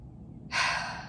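A person with a cold gives a single short, close sniffle, a soft breathy intake that starts after a moment of quiet room tone and fades out.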